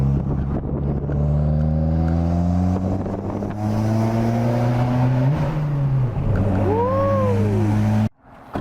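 Honda VTEC car engine revving inside a tunnel, a loud sustained drone that climbs steadily in pitch, dips, then swoops up again with echoing reverberation before cutting off near the end.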